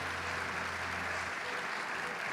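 Church congregation applauding during a sermon, a broad wash of clapping heard at a distance, with a low steady hum under the first half.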